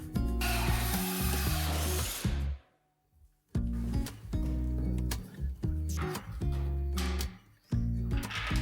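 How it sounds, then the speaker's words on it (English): A power drill drives a large hole saw through wood, cutting in loud grinding bursts with brief pauses and a short silent gap where the saw is repositioned to cut from the other side. "pre-drill and then I use the large hole saw"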